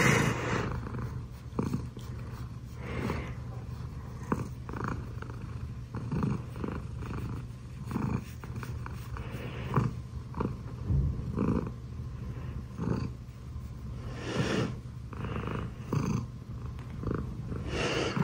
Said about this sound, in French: Ça ronronne.